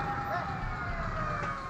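Fire engine siren at a blaze in food kiosks in Garut, West Java, a faint wailing tone heard at a distance under street noise and traffic.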